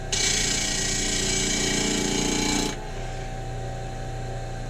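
A power tool smooths a wood turning with a loud, close, high-pitched whine for nearly three seconds, then drops to a lower, quieter running hum.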